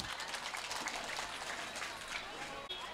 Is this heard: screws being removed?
no